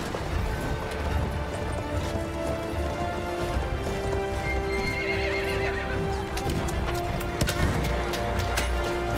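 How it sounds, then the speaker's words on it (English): A horse in a video game gallops in a fast clip-clop of hooves and gives loud whinnies, with clanking and crashing battle noise around it. "I got a sword and a horse."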